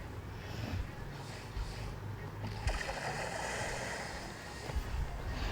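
A boat gliding across water in the game Blox Fruits, a steady wash of rushing water and spray running throughout at moderate level, with a few sharper splashes standing out.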